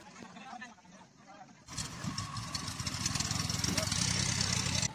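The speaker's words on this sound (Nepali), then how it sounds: "यहाँ मेरो पछाडि डुङ्गा आइरहेको छ" An engine-powered boat arrives on the water at Lumbini, its motor kicking in abruptly and settling into a steady, rattling drone that grows slightly louder, with people talking nearby.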